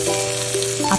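Pork shoulder searing over high heat in a pot, a steady loud sizzle and crackle of frying fat with a constant hum underneath, close and continuous with no talk.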